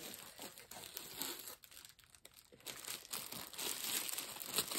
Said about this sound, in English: I can't show it to you without unwrapping it